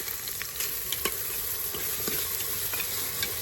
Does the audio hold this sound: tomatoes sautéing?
yes